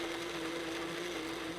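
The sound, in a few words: blender pureeing ripe tomatoes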